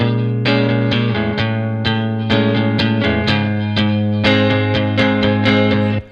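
An electric guitar plays a series of plucked notes and chords with reverb, notes ringing and overlapping in a steady rhythm.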